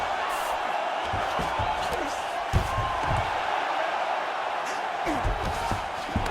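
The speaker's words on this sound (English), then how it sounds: "huge pop from the crowd as the fighters get back up to their feet" A dense, steady crowd roar fills the whole stretch of the EA Sports UFC 5 fight, with some thumps mixed in. Commentary talk is faintly audible beneath it.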